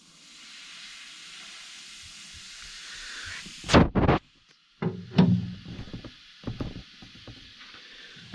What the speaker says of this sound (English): We can see this bubbling and foaming up over here